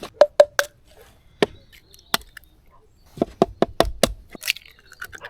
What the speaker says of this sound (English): let's crack a few eggs